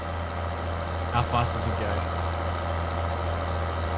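In Farming Simulator 2013, a brand-new tractor engine idles with a steady low drone, while someone briefly speaks over it midway.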